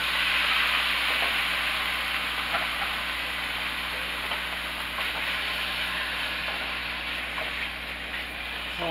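Chopped beef sizzling in a hot pan, a steady, bright hiss with faint crackles that carries unbroken at close range.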